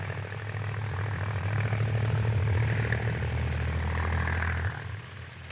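A propeller airplane drones steadily in flight with a deep engine hum and buzzing prop, loud and constant before easing slightly near the end.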